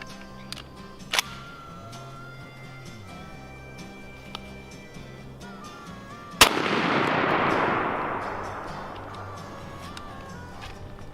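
A shotgun fires one loud, close blast while being patterned for turkey season, followed by a long decaying rumble, with a few quieter pops and sharp knocks earlier in the clip.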